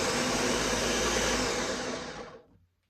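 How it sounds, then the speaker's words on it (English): A food processor runs loudly, chopping white sweet onions, then winds down and stops as the motor cuts off. "just stick them in the processor"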